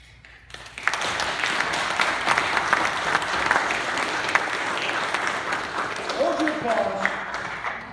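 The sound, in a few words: audience applause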